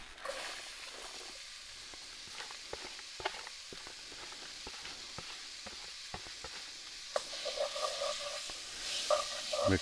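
Onion sizzles and fries as it goes into a pot of Cajun chicken, sausage and andouille gumbo, a steady crackling hiss with scattered stirring clicks that grows louder toward the end.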